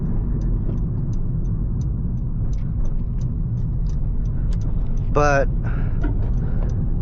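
A car engine holds at full throttle yet barely gains speed, giving a low, steady rumbling drone inside the cabin while a person talks over it.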